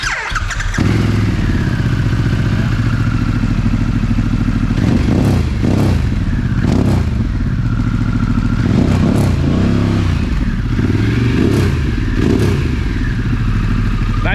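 Harley-Davidson Revolution Max motorcycle engine idling loud and close with a steady deep rumble, broken by several short revving blips and clattering mechanical thumps throughout.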